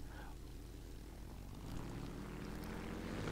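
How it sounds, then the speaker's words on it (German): A propeller aircraft engine in the War Thunder video game cranks and catches, settling into a steady droning rumble that swells slightly louder partway through. "So, Motor anlassen."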